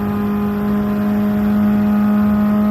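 A race car's engine drones loud and steady through hard acceleration while shifting up toward sixth gear, a continuous, close, high-pitched whine with no pauses.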